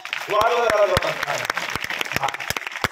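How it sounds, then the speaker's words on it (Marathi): A crowd claps in a brisk burst of applause at a devotional goddess (Jagdamba) gathering, the claps sharp and steady over someone speaking loudly on a microphone. "निमंडळासाठी एका टाळ्या वाजवा"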